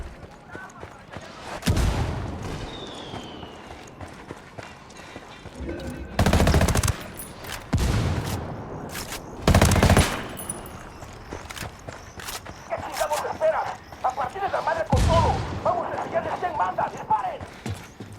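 Bursts of automatic gunfire in the shooter game Ghost Recon Wildlands, loud clusters of rapid shots separated by quieter stretches with footsteps and movement, while a voice talks over parts of the action.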